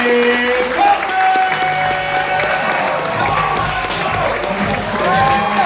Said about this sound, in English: Start clapping your hands right now.